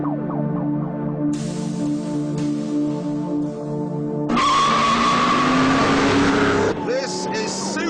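A Lotus Exige and a Ford Mustang race on a short track circuit, engines droning loudly before a sharp burst of tire roar and revving sweeps past, then fades into a continued engine note.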